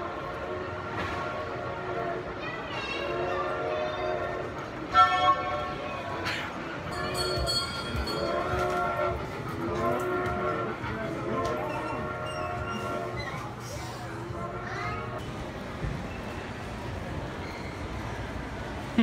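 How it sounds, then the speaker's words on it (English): A train rumbles past while its horn and a bell sound repeatedly; voices talk intermittently over the noise. "Say the train's coming, run."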